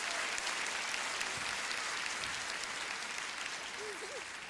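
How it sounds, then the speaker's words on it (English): Applause from the audience at a 2022 high school graduation ceremony, a steady wash of many hands clapping at a moderate, distant level throughout, with a faint voice briefly audible near the end. "Let's give them another round of applause."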